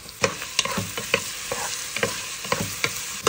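Onions and capsicum stirred in melted butter and oil for pav bhaji, a steady close sizzle broken by repeated spoon scrapes and clacks against the pan.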